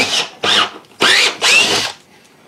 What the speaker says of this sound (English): So what we're doing now is we're drilling